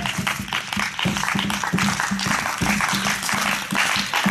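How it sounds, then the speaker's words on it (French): A church congregation at an evening worship revival service applauds steadily and loudly for about four seconds, with a rhythmic low pulse underneath that suggests music or clapping in time. "On va acclamer le Seigneur Jésus."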